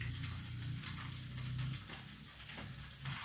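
Fish balls sizzling steadily in hot frying oil, a continuous close crackle with no voices.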